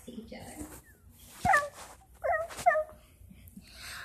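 A puppy whimpers and yips in short, high, wavering cries, a few close bursts over about two seconds, mixed with a person's talk during toy play.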